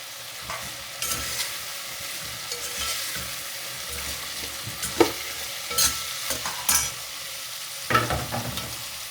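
Cabbage stir-fries in a pan for vegetable biryani, a low steady sizzle with repeated close scraping and tossing strokes of a spoon, some sharper clacks near the end, no one talking.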